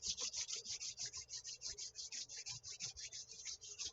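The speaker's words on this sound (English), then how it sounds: "Bring the palms together and rub them." Palms rub briskly together in a steady back-and-forth rhythm to build heat during a guided meditation, a soft hissing friction repeated about five times a second, close and alone in a quiet room.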